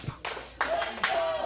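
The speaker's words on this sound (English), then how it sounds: "you hear the crowd starting to get behind Angel" A wrestling crowd claps in support of Angel at a KCXW Saturday Slam show, rhythmic group claps swelling at regular intervals under commentary talk.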